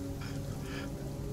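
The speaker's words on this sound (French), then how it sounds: "Il commence à pleuvoir un peu, non mais légère averse." A light rain shower beginning outdoors by a car, a soft steady patter of drops with a low rumbling background, fairly faint and without speech.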